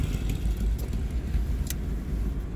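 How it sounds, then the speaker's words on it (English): Steady low rumble of road traffic in Bridgnorth, a car engine close by with continuous vehicle hum and a couple of faint metallic clinks, no voices. "So it's a long traffic here in Bridge North."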